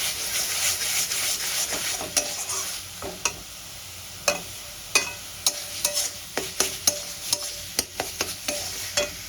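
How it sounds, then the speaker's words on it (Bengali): Onion paste fries in a pan for a Bengali boal fish curry, a steady bright sizzle under repeated sharp scraping strokes of a spatula that quicken toward the end, close and alone. "পেঁয়াজের পেস্টটাকে আমি একদম খুব ভালো করে ভেজে নিয়েছি আর কাঁচা গন্ধটা চলে যাওয়া পর্যন্ত মতো বাদামি বাদামি হয়ে আসছে"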